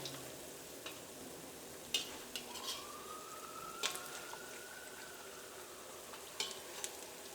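Bonda batter deep-frying in hot oil over a medium flame gives a soft, steady sizzle with scattered pops and crackles, faint and close, with a thin whistling tone drifting through midway.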